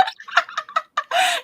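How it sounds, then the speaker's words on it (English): Harsh, turkey-like bird squawks and gobbles come in several short, choppy bursts, then one longer, rasping squawk at the end. The calls are close and loud, with no talking. "What kind of bird abominations are squawking at your place, Starra?"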